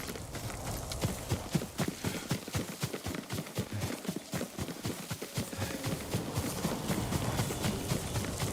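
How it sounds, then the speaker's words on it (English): Horse hooves clip-clopping in the video game Ghost of Tsushima, a steady run of close hoof strikes over light ambient background with no talking. "Yuriko's horse."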